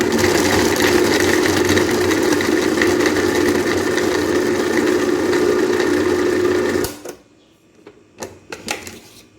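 A kitchen blender whirs loudly and steadily as it chops half fresh cheese and half mozzarella into a coarse filling, then cuts off abruptly, followed by a few faint clicks and knocks.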